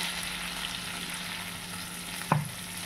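Spice paste frying in hot oil in a pan for pabda fish curry, a steady soft sizzle throughout with one brief clink of a utensil near the end, no voices.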